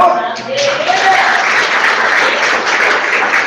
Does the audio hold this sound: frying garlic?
no